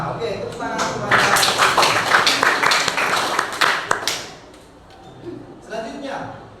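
Classroom applause breaks out as students clap together in a dense, loud burst of rapid claps that fades after a few seconds, followed by a few scattered taps.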